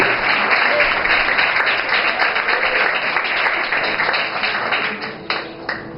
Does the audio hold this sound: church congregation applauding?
yes